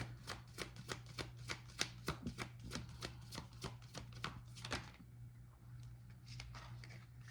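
Oracle cards being shuffled by hand, a quick run of about fifteen crisp riffling taps in steady rhythm, close and quiet, then a few softer scattered card sounds as it settles.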